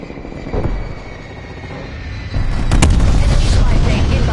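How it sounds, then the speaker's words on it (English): An aircraft strafe run in Call of Duty: Black Ops Cold War multiplayer roars in loud, building into a heavy engine rush with booming impacts that stay up close and sustained through the second half. "Strafe run incoming on your location."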